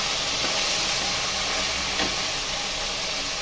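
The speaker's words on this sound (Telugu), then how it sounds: "ఉల్లిపాయలు వేసుకుందాం. వేగనిద్దామండి." Onions fry in a pan after green chillies for bagara rice, a loud, steady broadband hiss and sizzle with a faint soft tap in the middle.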